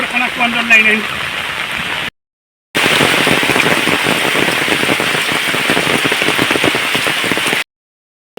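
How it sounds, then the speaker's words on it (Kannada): Heavy rain pours steadily, a dense continuous hiss with fine drop crackle, briefly cutting out in the middle before resuming just as loud. "ಮಳೆ ಜೋರು ಬರ್ತದೆ."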